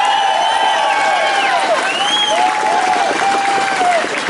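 Rally crowd for a Calgary cancer centre applauds loudly and steadily, with whistles and scattered cheers rising over dense clapping throughout.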